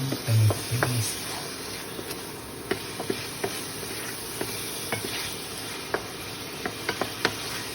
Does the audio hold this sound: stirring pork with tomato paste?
yes